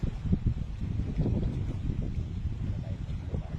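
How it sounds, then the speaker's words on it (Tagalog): Wind gusts buffet the microphone in a low, steady rumble during octopus fishing, with speech mixed underneath. "Mahangin eh."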